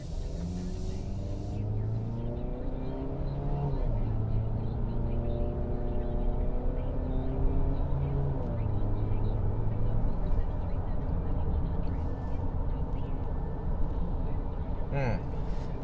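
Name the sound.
2016 Jeep Cherokee Trailhawk engine accelerating and shifting gears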